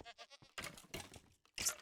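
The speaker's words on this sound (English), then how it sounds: "Is that that's a goat." Minecraft goat bleating, a few short wavering calls followed by a louder bleat near the end, faint and close in a quiet game setting.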